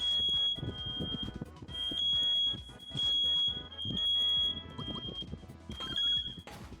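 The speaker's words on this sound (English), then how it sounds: "That's our smoke alarm." A household smoke alarm sounds its loud, high, piercing beeps in repeated bursts, close by and dominant, mixed with clattering and knocking noises in the room.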